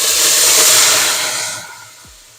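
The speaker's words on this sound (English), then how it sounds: "So now our oil is nice and hot. You can see it smoking. So I'm just gonna add our paste." Tomato paste hitting smoking-hot oil for jollof rice, a loud broad sizzle that hisses strongly at first, then fades over the last second.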